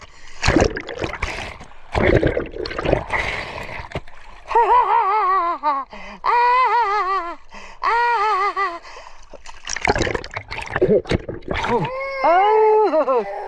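People splash in the sea at a beach in Cabangan, Zambales, with a few sharp bursts of water early on, then excited voices calling out over fainter splashing.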